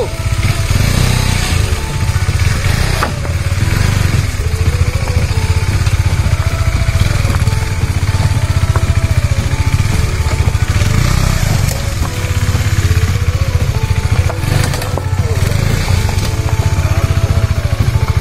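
A KTM Duke 125 motorcycle ridden off-road on a rough trail toward a waterfall, its engine droning loud and steady throughout with rising and falling revs as the rider pushes it forward, no voices present.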